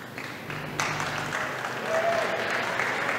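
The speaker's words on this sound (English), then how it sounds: "A sarcastic round of applause for Jace Bergschneider" A crowd applauds in a gym during a high school boys' varsity basketball game, a steady, moderately loud wash of clapping that fills the hall from start to finish.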